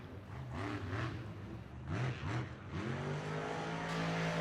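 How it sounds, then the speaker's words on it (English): The Grave Digger monster truck's engine roars and revs through a Monster Jam freestyle run, its throttle rising and falling in repeated pulses that lift into higher pitches, loud and continuous over arena noise. "Krysten has that Gravedigger throttle rhythm. Listen to her, just like her dad"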